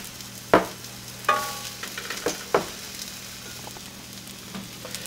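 Broccoli and other vegetables frying in a pan, a steady soft sizzle broken by several sharp scraping knocks of a utensil stirring them, close and fairly quiet with no voices.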